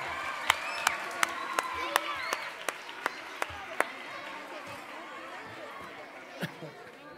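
An audience at a local event applauds in a broad, moderately loud wash of clapping that gradually fades, with a few sharp knocks in the first seconds and voices chattering underneath.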